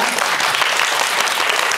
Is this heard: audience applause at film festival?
yes